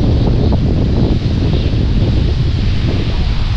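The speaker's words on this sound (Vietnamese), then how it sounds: "chạy xuống khu vực biển này gió ghê gớm luôn các bạn, gió sóng rầm rầm luôn nè" Strong seaside wind buffeting the microphone over roaring waves by the sea at Quy Nhon, a loud continuous broadband rush with no break and no talk.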